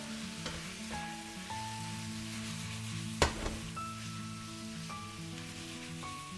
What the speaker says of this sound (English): I'm gonna chuck all the veggies back in. Give it a stir.